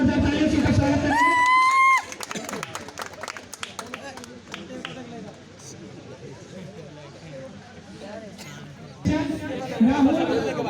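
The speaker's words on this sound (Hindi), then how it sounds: "जोरदार तालियों से उनका स्वागत करेंगे।" A crowd at an award ceremony claps and murmurs for several seconds after a voice over a loudspeaker, with scattered cheers, then amplified speech resumes near the end.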